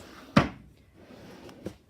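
A craft room drawer slides open with a sharp wooden knock, followed a moment later by a softer second bump, close by in a quiet room.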